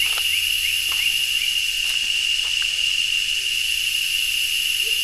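A loud, unbroken high-pitched drone of cicadas fills the air in Uvita, Costa Rica, constant and piercing, with a few faint chirps and clicks underneath.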